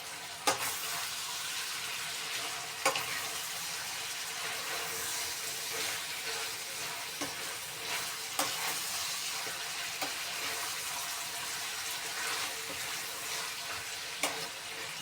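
Zucchini frying in a pan as it releases its water, a steady broadband sizzle throughout with occasional clicks of a utensil stirring, no talking.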